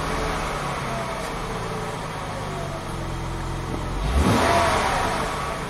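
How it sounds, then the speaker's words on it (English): The engine of a 2000 Acura 3.2 TL idles steadily, then gives one quick, short rev that rises and falls back to idle. It is heard close up, with no voices. "let's see what it does when we rev the engine, just a quick rev."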